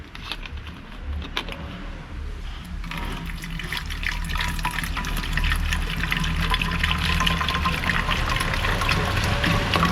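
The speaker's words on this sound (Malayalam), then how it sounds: "ഇതിലത്തേക്ക് ആവശ്യമായ 1 ലിറ്റർ വെള്ളം ഇത്തണം" One litre of water pours steadily into a bottle for a homemade foam wash, starting lighter and building to a fuller, continuous gurgling fill, with no talk.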